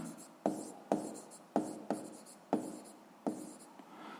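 Pen writing an answer by hand on paper: six or seven short, scratchy strokes in an even rhythm, each starting with a soft tap and trailing off, close and quiet with no talking.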